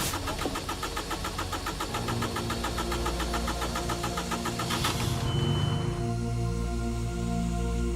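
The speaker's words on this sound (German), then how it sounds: "Der Motor hat abgestellt und will nicht mehr anspringen." A car engine cranks repeatedly for several seconds with a steady, rapid churning rhythm before it stops, then a low hum continues; the engine had stalled and would not restart, and nobody speaks.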